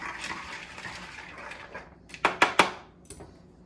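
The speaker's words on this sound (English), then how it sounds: "all I have to do from there, stir things up" Metal spoon clinking against a bowl while herbs are stirred into pet food, a quick cluster of three sharp scrapes and taps close by, after a stretch of soft rustling.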